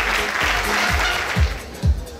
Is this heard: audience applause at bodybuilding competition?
yes